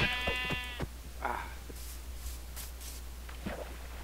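A single Minecraft sheep bleats loudly at the start, followed by quieter rustling and faint shuffling steps against a low background hum.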